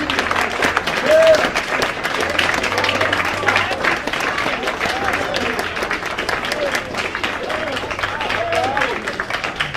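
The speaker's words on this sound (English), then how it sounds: "stand up and give a round of applause" Sustained audience applause at a gathering, a dense even roar of many hands clapping that carries on for about ten seconds with scattered voices and cheers blended underneath.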